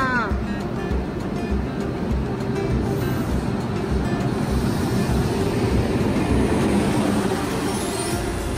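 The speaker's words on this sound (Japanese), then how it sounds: "今からこの電車に乗ってソウルに帰ります。" A Korean high-speed SRT/KTX train at a station, giving a steady rumbling roar with a faint high whine and a squeal at the start, heard at moderate level under the hubbub of the platform.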